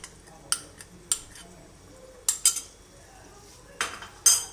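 A spoon clanks and scrapes against a metal pot in sharp, irregular strokes while flour paste is stirred into simmering beef nihari, with a quiet bubbling background.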